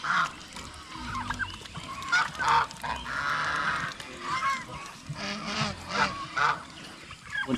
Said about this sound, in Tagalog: Marami na po tayong pato dito.